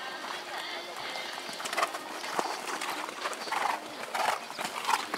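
Several horses cantering in a dressage arena during a riding-horse test, the rhythmic hoofbeats steady and moderately close under a caller's voice, with birds chirping in the background.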